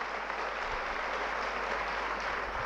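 Steady crowd applause at an annual programme event honouring two cousins, a dense even wash of clapping held at moderate loudness throughout, with no voices over it.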